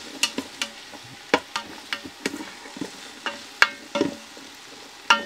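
Asparagus and lemon peels stirred in hot oil inside a Ninja Foodi, with a soft sizzle under a series of distinct scraping and clacking stir strokes at an irregular pace.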